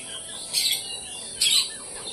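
Pet pigeons settling after feeding give two short, bright chirping calls about a second apart, fairly faint against a quiet background.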